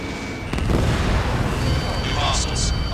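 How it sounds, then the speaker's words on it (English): Missile launch with a roaring rumble and a heavy boom inside a fighter-jet mission in Ace Combat 7: Skies Unknown, under a steady loud engine and battle din, with a radio voice talking over it. "Strider 3, launching missile."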